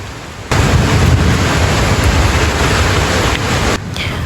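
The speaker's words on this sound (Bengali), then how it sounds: "তো চলেন সবাই মিলে বৃষ্টির সাউন্ড শুনি" Heavy rain and wind storm pounding a tin roof at night, a dense, loud, steady roar that starts abruptly and continues unbroken with no voices.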